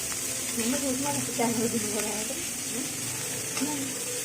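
Onions frying in a pan while being browned for a bombil kanda bhaji, a steady close sizzle with soft stirring scrapes beneath someone talking throughout.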